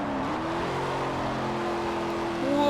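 A Ford Thunderbolt engine in the Forza Motorsport 4 racing game drones steadily at high revs, then swells louder near the end, with no talk over it.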